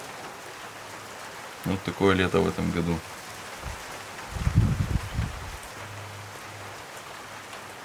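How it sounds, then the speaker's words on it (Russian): Steady patter of rain falling throughout, with a man and then someone speaking briefly over it. "Все время начинается дождик"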